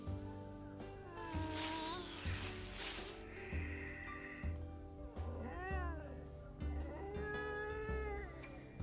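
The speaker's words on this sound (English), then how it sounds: "I've noticed this is the second time that we ended up with a pissed off cat in the game." Angry cat from the visual novel game The Fruit of Grisaia, giving several loud, drawn-out meows and caterwauls in close succession over steady game background music.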